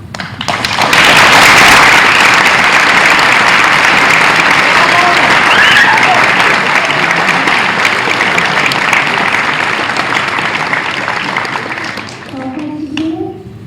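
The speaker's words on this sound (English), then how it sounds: "So we applaud you tonight." Audience applause at an IB pinning ceremony, a loud, sustained roar of many people clapping that swells quickly, holds for about ten seconds, then fades as a voice begins speaking.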